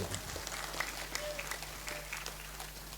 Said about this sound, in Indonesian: Kenapa tidak tepuk tangan, Pak?